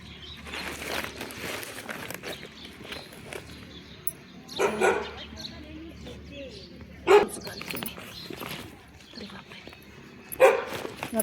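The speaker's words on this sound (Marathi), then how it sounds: "बापरे, कसं कुत्रं ओरडते." A dog outdoors near a roadside temple barks in sharp, loud bursts spaced a few seconds apart, with softer whimpering yips between them and faint background talk.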